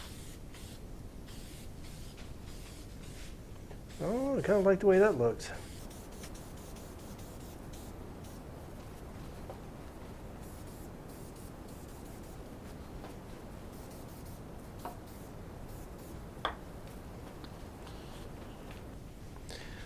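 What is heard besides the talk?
spraying clear shellac from a spray can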